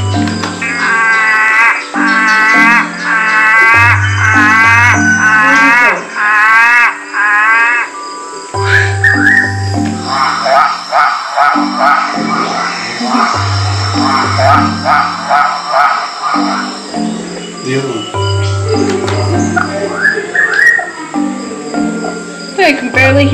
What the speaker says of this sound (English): wonder what frogs sound like.